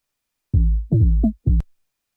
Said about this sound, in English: this bass loop is in D, but it's going to have been transposed to A to fit our project